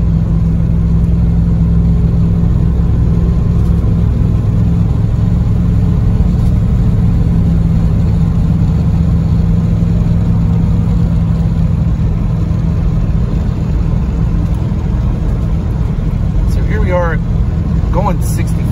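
A car with a TH400 automatic transmission and switch-pitch converter cruising at 65 mph around 2,500 RPM, giving a steady, loud engine and road drone that continues without a break.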